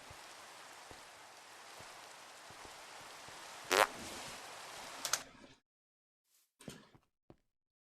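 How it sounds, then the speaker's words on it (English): Minecraft rain hisses steadily as a broad wash with a couple of sharper splashy bursts. It cuts off abruptly partway through, leaving near silence broken by a few brief scraping noises. "It's not supposed to rain over here."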